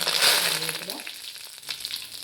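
Mustard seeds splutter in hot oil, sizzling and crackling with scattered sharp pops, loud at first and then settling into a steadier, quieter frying hiss.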